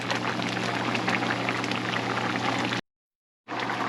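Onion and flour gravy simmering hard at high heat, a steady close bubbling and sizzling hiss that cuts out briefly near the end before resuming.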